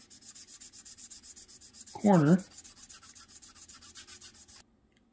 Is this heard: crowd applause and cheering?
no